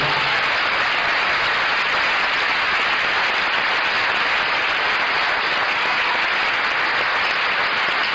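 Concert audience applauds for the sound technician at a choral event in Salou, a dense, uniform wall of clapping that holds steady from start to finish, with no talk over it.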